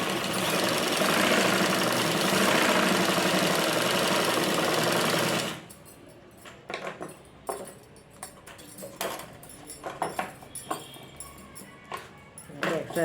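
A loud, close sewing machine stitches the side seam of a lining blouse in one continuous fast-running burst of about five seconds, followed by quieter fabric handling and small clicks.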